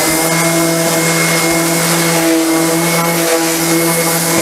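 A power sander grinds steadily over the hull of a small one-person boat being rebuilt, giving a loud, continuous whine with a constant motor hum and no pauses or talk.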